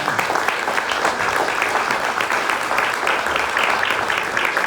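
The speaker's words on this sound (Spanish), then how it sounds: "Dale ese aplauso fuerte al Señor Jesucristo." A church congregation bursts into loud, dense applause during a Spanish-language service, a steady wash of many hands clapping that fills the room evenly from start to finish.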